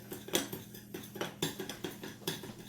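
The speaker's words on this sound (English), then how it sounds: "you're going to take your spoon and start stirring that up good" A spoon stirs chocolate gravy mixture in a pot with a steady run of scraping, clinking strokes, about two to three per second, close and fairly quiet, with no talking.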